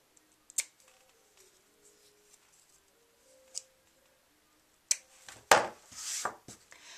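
Scissors trim small paper pieces for a handmade chick greeting card, with a few sparse, crisp snips spaced out close by, then a brief flurry of louder rustling cuts and paper handling toward the end, with no talking.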